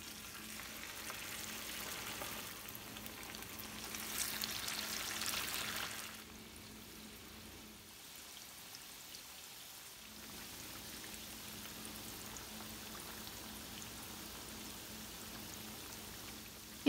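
Pieces of beef tikka fry in hot oil over medium heat, giving a steady crackling sizzle that is fuller for the first six seconds and then settles to a quieter, continuous hiss.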